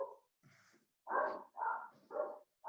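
A dog barks four or five times in short separate bursts, close and clear against silence, with the last barks louder and evenly spaced.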